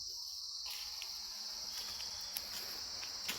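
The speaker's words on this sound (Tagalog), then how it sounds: "Huni ng ibon at huni ng mga kuliglig." Steady, shrill chirring of crickets fills a forest near a waterfall, a continuous high buzz with a few faint ticks and rustles beneath it.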